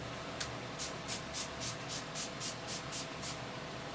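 An aerosol can sprays onto the back of a craft card in short hissing bursts, about nine quick even puffs in steady rhythm, close and fairly quiet over a faint background hum.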